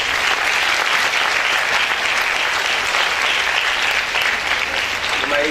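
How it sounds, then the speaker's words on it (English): An audience at a school prize distribution ceremony breaks into loud, sustained applause, a dense steady wash of clapping from many hands that fills the room without pause. "So a big round of applause for all of them."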